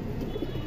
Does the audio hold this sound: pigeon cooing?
yes